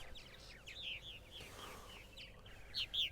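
Purple martins on eastern Long Island give quick, bright chirps and warbling calls, a few louder close notes near the end over a faint steady background.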